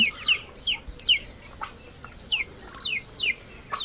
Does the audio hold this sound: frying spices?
no